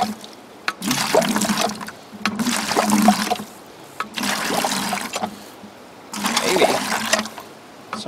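Water flows out of a newly hand-dug shallow well, sloshing and splashing in four strong surges separated by brief lulls, loud and close.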